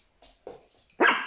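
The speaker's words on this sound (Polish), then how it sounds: "Lady tam się bawi, Luna na nią szczeka" A small dog yips a few times in quick succession at another dog during play, ending in one louder, sharper bark close by, with no talk.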